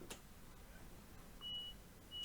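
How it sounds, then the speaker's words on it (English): A guard's buzzer on a train at Birmingham International gives two short, faint electronic beeps spaced apart, over a quiet cab hum just before departure toward Birmingham New Street. "Guard buzzer."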